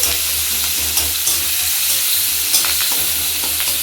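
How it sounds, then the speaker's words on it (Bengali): Fish fries in a pan with a loud, dense, continuous sizzle and spatter. It sounds close and steady, with no voices. "এই যে মাছ ভাজা হচ্ছে"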